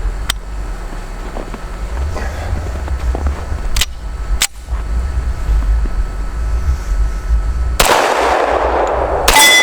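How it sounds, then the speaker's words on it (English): A World War II-era US Army 1911A1 pistol fired outdoors, a few sharp, loud cracks at irregular intervals over a steady background rumble, ending in a brighter burst. "Going to run 7 rounds through it, see how she works."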